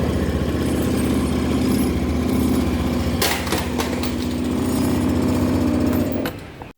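A Honda Scoopy-i scooter engine, just fitted with a new starter motor, runs steadily at idle with a loud, even mechanical chatter close by, then cuts off abruptly near the end.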